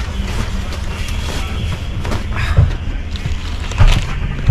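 Tram riding through Berlin, with a constant loud rumble of the car on the rails, occasional clanks and thumps from the track, and faint background voices.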